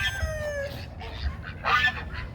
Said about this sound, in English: Or are the turkeys harassing you?